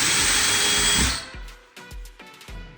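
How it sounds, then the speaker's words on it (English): A power drill whines loudly for about a second as it bores into a wall during a towel warmer installation, then stops, followed by several short clicks and knocks as the tool is handled. "I drill a hole right where the hole is supposed to be."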